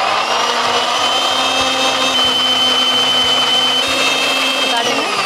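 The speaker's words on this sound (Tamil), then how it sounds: "இன்னைக்கு வந்து நான் ப்ரெஸ்டீஜோட என்டியூரா மிக்சியில் தான் அரைக்க" A Prestige Endura mixer grinder whirs steadily at high speed, a loud continuous motor whine with a faint thumping under it, running without break throughout.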